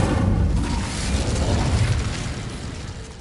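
An Incendio fire spell bursts in the Hogwarts video game, a dense roaring whoosh of flame that fills the moment loudly and then slowly eases off, with no voices over it.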